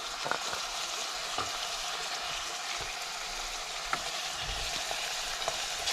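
Five garlic cloves fry with translucent onions for a Kashmiri lamb or goat kidney dish, a constant close sizzle broken by occasional light clicks and stirring scrapes, with no speech.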